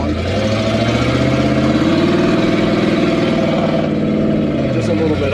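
A 1979 Chevrolet C20 square-body truck with a 454 V8 runs steadily nearby, its deep engine rumble swelling briefly in revs, with people talking over it.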